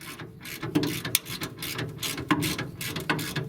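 A bolt turns on a very rusty Dodge Ram spare tire winch, giving close, uneven ratcheting clicks and grinding metal scrapes repeating through the moment.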